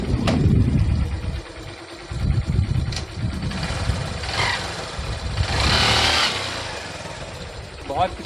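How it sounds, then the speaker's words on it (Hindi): A restored 2022 Hero Igniter motorcycle, with a lightened clutch, revs up loud and close during a pickup test, its engine rising and falling in bursts and with some talk mixed in. "सभी इस बाइक का हम पिकअप चेक करने वाले हैं।"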